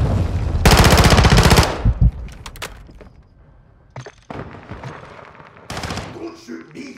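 Video game gunfire: a loud burst of rapid automatic fire up close, then scattered single shots and cracks, with another automatic burst near the end and a voice talking in places.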